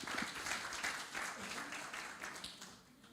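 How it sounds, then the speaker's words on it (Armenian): An audience claps together in a hall, a brief, soft and steady patter of applause heard at a distance. "Շնորհակալություն ծափերի եւ ամենների համար։"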